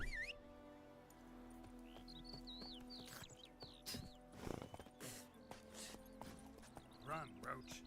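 Roach the horse galloping in The Witcher 3: rhythmic hoofbeats under game ambience with chirping birds, faint and steady, with a voice speaking over it.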